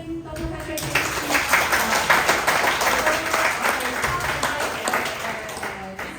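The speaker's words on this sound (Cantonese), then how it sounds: "或者我哋俾啲掌聲，多謝 Patrick 先生" Audience applause fills a public history lecture hall in Hong Kong, a steady wash of clapping from many hands rising quickly and holding at an even level for several seconds with no speech over it.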